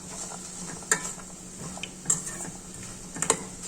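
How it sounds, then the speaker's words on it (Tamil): Chopped banana stem is sautéed and mixed in a pan. A few distinct spatula scrapes and clinks sound over a quiet, low background hiss. "வாழைத்தண்டை வதக்கிக்கலாம்"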